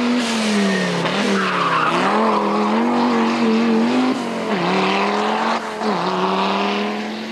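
An Audi Quattro rally car blasting through a special stage of the 2002 Rallye de la Famenne, its engine loud and close in a sustained howl that dips and rises with gear changes and tire scrubbing.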